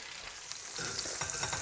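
Boneless pork chops sizzling as they brown in a hot pan, a steady crackling fry that grows slightly louder partway through, with faint stirring or shifting noises and no talk.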